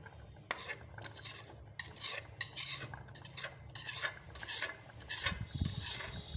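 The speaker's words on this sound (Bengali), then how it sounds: "আমি মশলাটা যেটা কষে রেখেছিলাম সেটা আমি আস্তে আস্তে ঢেলে দিচ্ছি" A spoon scrapes and clinks in a pot as cooked spice paste is poured into khichuri of Gobindobhog rice, lentils and potatoes and stirred, in a series of rhythmic rasping bursts.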